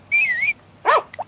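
A dog barks in the farming game Harvest Moon: Back to Nature: a short synthesized yelp-like tone followed by a sharper bark and a small trailing yip, close and clear with no talk over it.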